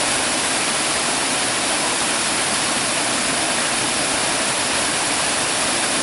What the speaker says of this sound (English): lovely to see such a beautiful waterfall